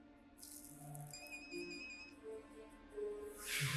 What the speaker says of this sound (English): Everybody got the same ringtone.